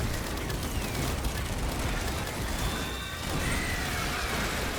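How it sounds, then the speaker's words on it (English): Minigun with elemental spin firing in a video game on max difficulty, a continuous dense roar of rapid shots and mechanical whirring that persists throughout, dipping briefly midway before resuming at full intensity. "We also got elemental spin on the minigun."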